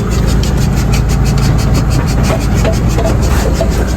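A lorry engine runs steadily while the truck reverses, a loud, continuous low rumble with a faint repeating tonal beep riding over it and no clear talk.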